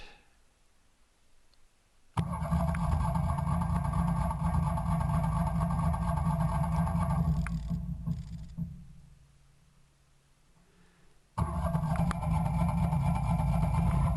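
The engine of a Wood-Mizer LT15 sawmill starts and idles while warming up, a loud steady close-range drone that cuts out, leaving quiet, then restarts and keeps running.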